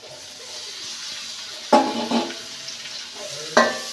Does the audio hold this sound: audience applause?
no